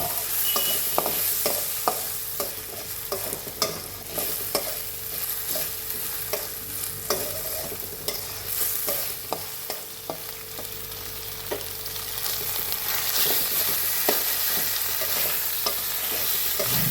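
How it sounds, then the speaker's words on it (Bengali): Gobindobhog rice frying with salt and turmeric, a steady close sizzle broken by frequent scraping stirs against the pan throughout, with no voices. "এবার একটু লবণ আর হলুদ দিয়ে ভালো করে ভেজে নেব।"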